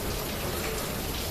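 Heavy rain pours down during a thunder and hailstorm in Belagavi, a dense, loud, steady hiss with no pauses and no voices.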